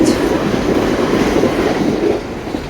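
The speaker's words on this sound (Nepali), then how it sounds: "ट्रेन आइसकेछ है, कुद्नु पऱ्यो।" A train pulling into a station makes a loud, steady near rumble and rolling clatter that eases slightly just before the end.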